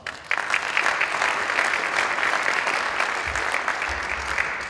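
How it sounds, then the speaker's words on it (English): Steady audience applause at a community salute event, moderately loud and continuous with a few sharper claps standing out, and a faint low rumble near the end. "Give Jill a round of applause."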